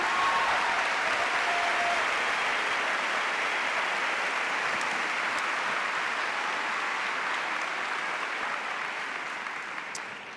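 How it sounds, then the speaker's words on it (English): A large crowd at a school district convocation applauds steadily for about ten seconds, a dense, sustained wash of clapping that slowly fades toward the end. "Let's give them one big round of applause, please."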